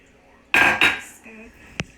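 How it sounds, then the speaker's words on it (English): A wooden spoon mixes pizza dough in a bowl as oil and water are added, heard as two sharp close scrapes and knocks followed by a brief clink. "gonna start mixing with the wooden spoon and slowly add our vegetable oil and water mixture in"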